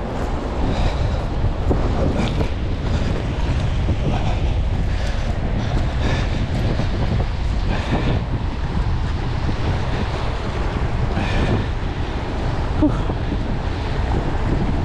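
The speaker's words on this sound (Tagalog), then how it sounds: "Grabe yung hangin mga kaloko." Strong wind buffets a microphone on a boat at sea among a school of fish, a constant roaring rush over splashing waves and hull noise for the whole stretch, with no clear talk.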